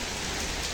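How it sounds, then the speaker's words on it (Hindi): Heavy rain pours down in a dense, steady hiss under dark storm clouds and strong wind, loud and close, with no voices. "ये देखो कितनी तेज बारिश आ रही है।"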